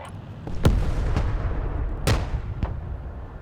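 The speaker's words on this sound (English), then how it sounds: "we're taking counter battery fire" Artillery fire from counter-battery shelling in the Broken Arrow war game lands as a few sharp booms and blasts over a continuous low rumble, some close and some more distant, with no voices.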